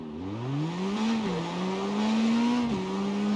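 A video game car engine revs and holds a high steady drone, dipping twice as gears shift, loud and continuous with no talking.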